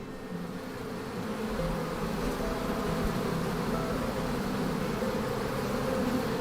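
Bees buzz continuously in a dense, steady drone, fairly close and even in level, with no voices over it.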